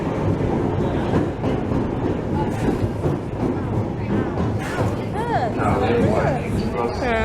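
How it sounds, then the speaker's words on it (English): A train pulls into a crowded London station, a loud continuous rumble and rush of the cars filling the platform, with a swell of rolling noise and squeal-like tones toward the end. "And here is the train."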